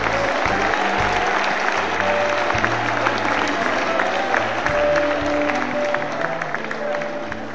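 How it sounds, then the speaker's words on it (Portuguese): An audience at a church event applauds in sustained, dense clapping, loud and steady throughout, with a voice faintly under the applause. "Essas palmas são para vocês."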